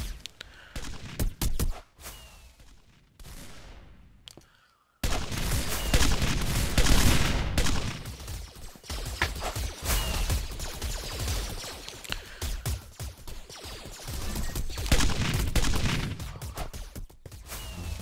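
Rapid bursts of automated turret gunfire in the Minecraft server game Hypixel Galaxy Wars, firing at players; dense, loud volleys run almost continuously after a quieter, sparser opening.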